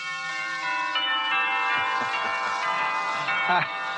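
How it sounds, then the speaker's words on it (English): Wedding bells ring out in a bright, steady peal of overlapping chimes, loud and sustained throughout. "Wedding bells."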